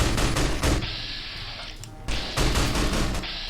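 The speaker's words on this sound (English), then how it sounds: "Take a few manual shots." Gunfire from manual shots in Fallout: New Vegas during the Hoover Dam battle, a rapid burst of loud close reports, a brief lull, then another dense volley of shots.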